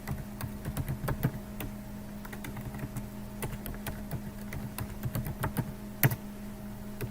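Quick, close clicking of keys on a computer keyboard, typed in short uneven bursts over a faint steady hum, with no voices.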